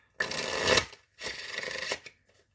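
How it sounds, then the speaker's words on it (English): Two quick riffle shuffles of a deck of cards, each a brisk fluttering burst about a second long, close up with a short pause between. "we'll give it one more shuffle"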